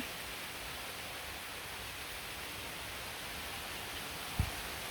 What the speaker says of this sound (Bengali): সকালবেলা থেকেই যে ঝিরিঝিরি বৃষ্টি